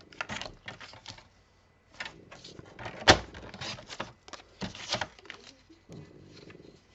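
Paper being cut to size for a handmade scrapbook album, with short scissor snips, rustling sheets and a sharp tap close by, in a quiet room with brief pauses between bursts.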